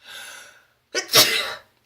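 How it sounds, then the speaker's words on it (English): A single loud, close sneeze with a sharp intake and an explosive burst, preceded by a softer breathy inhale. "I'm going to sneeze."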